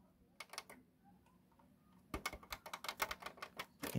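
Buttons on a Sony CFD-E100 radio cassette CD player click in a quick series of sharp, close taps, sparse at first and then a dense run of louder clicks.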